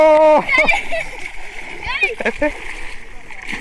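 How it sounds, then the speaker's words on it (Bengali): Close splashes of children somersaulting into water mixed with their excited voices and shouts, short bursts of splashing between the chatter. "ডিগ বাজি দিচ্ছে পানির মধ্যে"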